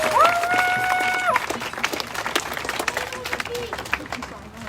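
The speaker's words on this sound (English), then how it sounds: "everybody, round of applause for Jedi, please." Crowd applause at a Portland direct-action protest, scattered clapping that starts fuller and thins into uneven individual claps, with a brief whistle-like tone near the start and murmuring voices in the background.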